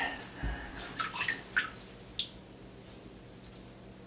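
Soft splashes and drips as a Standard Horizon HX300 marine radio is lifted out of water, a few irregular wet bursts followed by quiet trickling.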